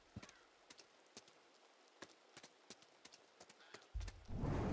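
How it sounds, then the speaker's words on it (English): Horse hooves clip-clop at a distance near manor stables in the game Seance of Blake Manor, a sparse, irregular string of soft knocks that ends under a louder rising rumble. "I can hear horses in the distance."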